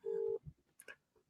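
A steady telephone tone sounds briefly while ringing someone's dad, a single held beep at moderate level, followed by faint shuffling and small handling noises.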